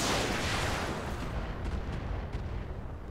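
Heavy gunfire and blasts in the video game Roguepoint, a dense loud barrage of booming shots and rumbling impacts that rolls on continuously, tailing off slightly toward the end.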